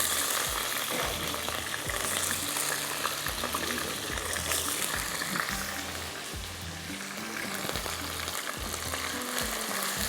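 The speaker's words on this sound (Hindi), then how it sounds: "इसके अंदर मैं आलू डालूंगी ताकि आलू भी इसके साथ साथ में फ्राई होते रहें" Potatoes and onions fry together in a pan, a loud continuous sizzle with a rhythmic low thumping from stirring or frying bubbles running through the whole stretch, close and steady with no voices.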